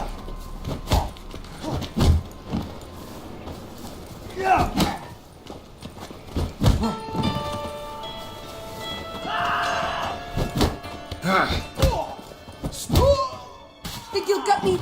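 Horse hooves clop and thud in The Witcher 3 amid combat, with irregular heavy impacts, a rumbling background and overlapping voices shouting throughout.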